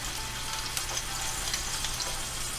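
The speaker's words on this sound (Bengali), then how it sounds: "এখন একদম নরম নরম করে ভেজে নিচ্ছি" Onion fries in a pan with a constant, close crackling sizzle and a low steady hum underneath, softening in hot oil without any talk.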